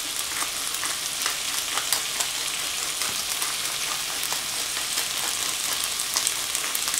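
Vegetables added to soy meat fry in a hot pan, a dense, even sizzle that hisses steadily throughout, with faint scraping and clicking as they are stirred.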